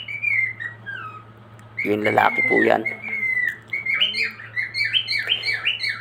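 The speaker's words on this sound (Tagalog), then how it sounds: "napakaingay pa rin po o sumisipol pa rin po yung ating ibon" A pet bird in an aviary whistles and chirps in bright, rising and falling phrases that repeat quickly, close by. A voice speaks briefly partway through.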